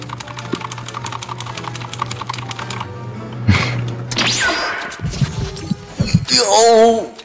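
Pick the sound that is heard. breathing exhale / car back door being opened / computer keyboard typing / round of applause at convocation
computer keyboard typing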